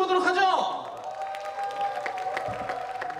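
Applause and cheering rise from the crowd as a family band takes the stage at a band festival in Wonju, a busy wash of clapping that carries on under an announcer's voice and a brief tone at the start.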